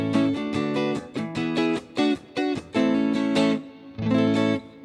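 An acoustic guitar runs through an amplifier with the drive turned all the way down and the treble raised, giving clean, bright strummed chords in a steady series of separate strokes, close and even in volume, no voices.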